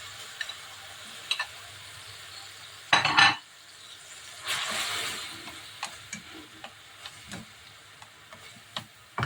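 Chopped tomatoes drop into a hot pan and are stirred, a soft steady sizzle broken by sharp utensil clacks, a louder burst of frying near the start and a swell of sizzling in the middle, with no talking.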